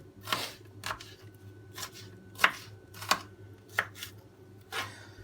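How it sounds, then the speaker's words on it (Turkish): A knife chops onions on a cutting board in a steady rhythm, about eight crisp, close strikes with short pauses between them. "Soğanlarımı doğrayacağım."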